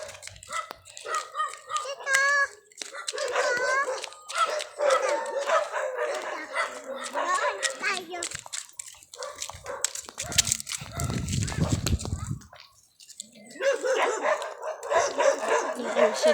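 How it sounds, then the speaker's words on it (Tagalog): Several dogs bark and yip in a rural neighbourhood, repeated overlapping barks at varying distance, with people talking throughout and a loud rattling passage midway. "Dami aso."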